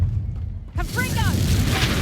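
Confringo fire-blast spell in the Hogwarts Legacy video game: a sudden deep boom after a quiet start, followed by a rumbling burst tail with a voice sounding over it.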